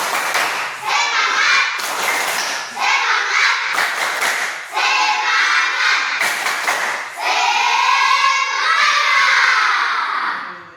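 A school class performs a rhythmic spirit clap as an icebreaker, with bursts of patterned clapping and children's voices chanting and shouting together in several loud, close phrases separated by brief pauses.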